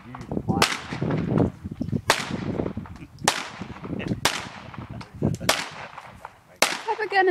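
A .38 Special handgun firing outdoors: six sharp, loud cracks spaced about a second apart, each followed by a short ringing decay, with people talking quietly between the shots.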